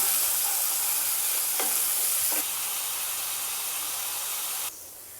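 A spice paste for a kantola, prawn and coconut curry fries in a pan, giving a steady loud sizzle and hiss with a few faint clinks of stirring, until the sizzle abruptly drops lower near the end.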